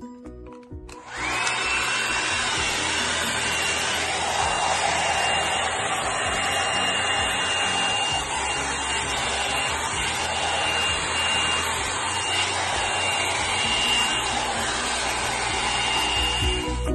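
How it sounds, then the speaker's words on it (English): A hot air brush dryer runs steadily with a loud, even whirring hiss that starts after a brief moment and holds throughout, with faint brushing underneath. "start with this side and use the hairbrush dryer and styler"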